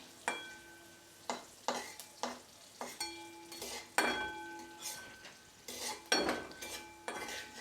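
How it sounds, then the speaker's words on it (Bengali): A spoon scrapes and clinks against a pan as cumin seeds and a dried red chilli are stirred and fried in oil for masoor dal tadka, giving rhythmic metallic strokes over a soft sizzle. "এক চা চামচ কাঁচা জিরে দিয়ে এটা কয়েক সেকেন্ড আমি নেড়ে ভেজে নেব।"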